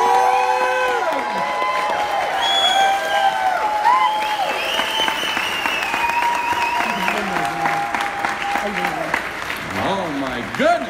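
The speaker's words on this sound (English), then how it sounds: "One round of applause for Hanalei" An event audience in Las Vegas applauds and cheers for Hanalei Swan, dense clapping mixed with whoops and excited shouting voices throughout.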